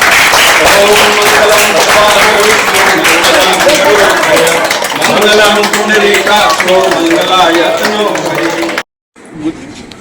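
An audience at a primary school ribbon-cutting inauguration for a World Youth Skills Day programme bursts into loud, sustained applause that fills nearly the whole stretch before cutting off abruptly near the end.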